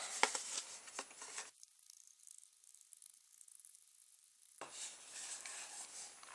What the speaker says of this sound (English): Now I'll finish it off with scissors.